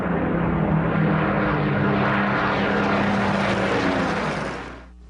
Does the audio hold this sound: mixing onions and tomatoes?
no